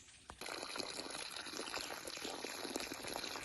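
Water pours steadily at a homestead water source, a close, continuous splashing gush that starts after a brief quiet moment and carries on evenly.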